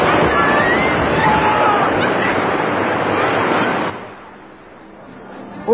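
Loud, steady rush of churning wild water on the Grand Canyon Rapids raft ride at Alton Towers, a broad roar that drops away abruptly near the end to quieter ambience.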